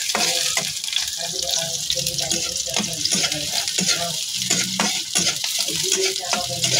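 Onions and garlic frying in a pan for Batangas menudo, a steady loud sizzle with stirring clatter throughout and no talking.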